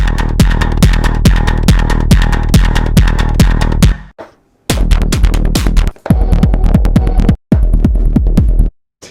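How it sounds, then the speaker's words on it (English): A deep synth bass pulses in steady repeated hits, layered with oscillator tones and noise, stopping briefly a few times before resuming. "it's just sub plus oscillators plus like some noise or notes in the background"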